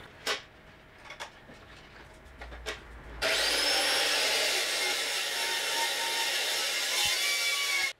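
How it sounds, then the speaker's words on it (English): A powered saw bites into angle iron and cuts steadily with a loud, sustained whine after a few light knocks and clatters, continuing without pause to the end. "I'm just going to cut the two pieces of angle iron to the same."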